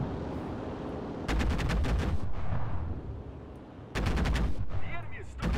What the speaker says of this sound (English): The sound of the cannon. It has a great sounding cannon.